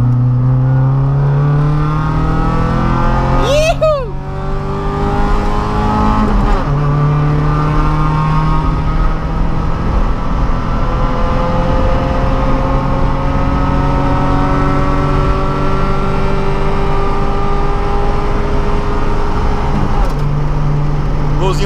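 A naturally aspirated, carbureted Chevrolet Kadett with a straight exhaust pulls hard in second gear from about 40 km/h. Its engine note climbs steadily, loud and close, with someone talking over the roar.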